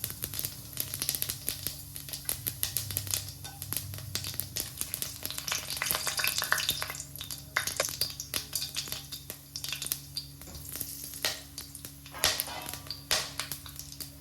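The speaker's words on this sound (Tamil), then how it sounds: "இப்போ எண்ணெய் நல்லா காஞ்சதும் நம்ம எடுத்து வச்சுருக்க ஸ்பைசஸை ஒன்று ஒன்றா சேர்த்துடலாம்" Whole spices crackle and sputter in two ladles of hot oil for a foxtail millet kichadi. The frying hiss runs steady and close, dotted with sharp pops and light taps of a spoon, with no one talking.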